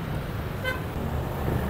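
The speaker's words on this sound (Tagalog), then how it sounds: "dito yung intersection na pinaka-busy talaga dahil maraming mga sasakyan dumadaan" Busy road intersection at SM Bicutan in Parañaque with steady traffic noise from passing cars and a short horn toot near the middle, all fairly distant and continuous.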